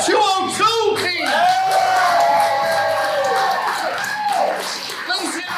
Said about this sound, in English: Round of applause for our 202 team!